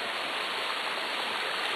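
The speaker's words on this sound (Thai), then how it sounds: "ตอนนี้เราอยู่ที่น้ำตก ทานรัตนาครับ" Thanarat waterfall in Khao Yai roars in a loud, dense, unbroken wash of falling water, heard up close with no voices over it.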